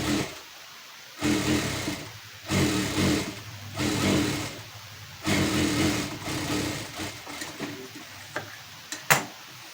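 A sewing machine stitches a back strip for a garment in several quick bursts of rapid mechanical whirring separated by short pauses, the final bursts shorter and choppier.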